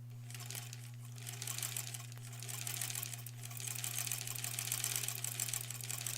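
A sewing machine stitches a quilt block, a steady fast mechanical whir with a constant motor hum, running continuously at moderate volume with no voices.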